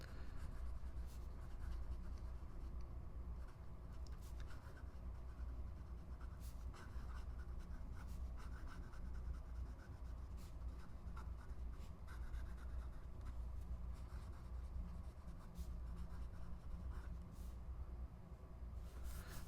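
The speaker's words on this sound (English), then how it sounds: "Fast writing." A Lamy Persona fountain pen with an oblique medium nib writes quickly across paper, giving a steady close scratching and scraping with small strokes that keep going without a break, and no voice is heard.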